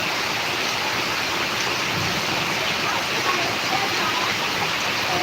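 Heavy downpour in Karnataka, a dense and steady roar of rain that holds at an even loudness throughout with no pauses.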